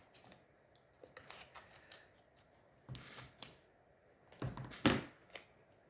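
Small pieces of sticky tape are cut and pressed onto a paper storage block in a craft setup: quiet, scattered snips and crisp crackling tape pulls in short irregular bursts, the loudest near the end, with no talk.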